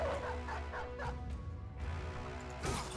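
A war dog in Battle Brothers barks in a quick run of sharp, close yips and bow-wows, with a whimper near the end.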